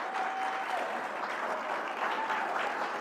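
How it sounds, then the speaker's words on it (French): An audience applauds at a political speaking event, a dense, steady wash of clapping held at an even level from start to finish, with no voices breaking through. "Et nous devrions applaudir Alex."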